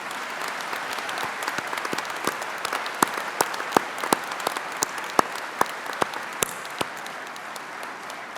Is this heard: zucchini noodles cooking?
no